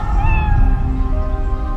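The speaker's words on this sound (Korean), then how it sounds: "고양이" A cat meows in a short, loud, close series of drawn-out, slightly bending cries lasting under two seconds, with no voices around.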